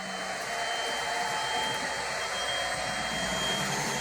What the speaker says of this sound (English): So you can take the HST out of the station.